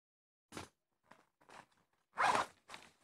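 A zipper on a school pencil case is closed in a few short, quiet rasping pulls, ending with a longer, louder zip and a final brief tug.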